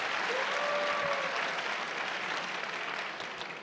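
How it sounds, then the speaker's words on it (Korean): Steady applause from a crowd, loud and sustained throughout, tapering slightly toward the end. "박수 부탁드립니다"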